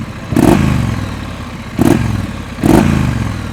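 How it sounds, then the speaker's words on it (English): A Triumph Street Scrambler motorcycle with a 2x2 exhaust gives three deep, meaty revs, each rising sharply over a loud, close idle rumble. "One of the most distinct factors on the Street Scrambler is this 2x2 exhaust, which also produces a very meaty roar."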